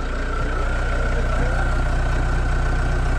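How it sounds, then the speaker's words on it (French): A Volkswagen Transporter T4 with a 2.4 diesel engine idles steadily, a continuous close rumble with an even low pulse and a faint whine, no voices. "Il est pas violent le démarreur, hein?"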